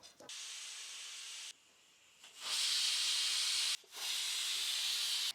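A pressure cooker on the stove hisses steam while Kerala-style beef curry cooks, giving three loud bursts of sharp, steady hiss with brief pauses between them.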